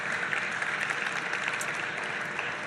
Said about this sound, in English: And that's where we all clap, guys.